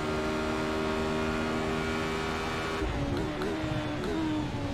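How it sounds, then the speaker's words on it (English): A Radical SR8 race car at Silverstone under full acceleration, its engine a steady high-pitched whine heard from inside the car, shifting pitch near the end as it exits a corner. "Full acceleration comes the exit."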